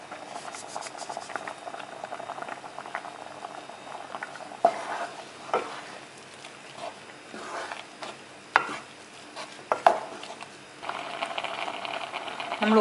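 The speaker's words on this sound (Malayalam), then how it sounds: "നമുക്കിനി ഇതിലേക്ക് ആവശ്യത്തിനുള്ള ഉപ്പ് ചേർത്തിട്ട് ഇളക്കാം." Cumin rice soup (jeeraka kanji) in a pot, stirred after salt goes in, bubbling with soft patter and scattered scraping clicks of the spoon throughout.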